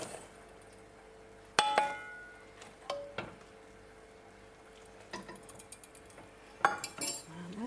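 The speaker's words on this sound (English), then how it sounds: "Whilst I add the borax, it says to keep stirring until it's cool" A spoon stirs homemade laundry washing liquid in a pot while borax is added, giving scattered metallic clinks and scrapes against the pot with quiet gaps between them.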